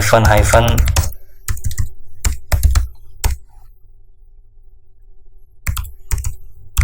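Fast bursts of typing on a computer keyboard as a terminal command for OpenVPN is entered, loud crisp key clicks in clusters separated by pauses, with someone speaking at the start.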